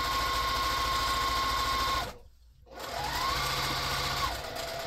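A sewing machine quilting a pumpkin potholder block as you go runs in a steady, close whirring drone, with a brief pause midway before it starts stitching again.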